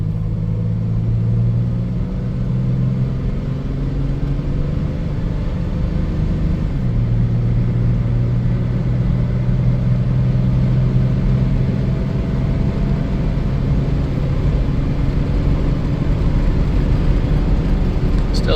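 A 1990 Dodge Grand Caravan LE on a road test, with a steady low engine drone and road rumble throughout at even loudness, and a slight shift in engine tone partway through.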